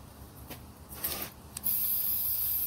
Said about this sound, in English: So I'm just spraying it white